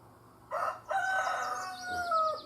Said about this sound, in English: listening to the roosters come alive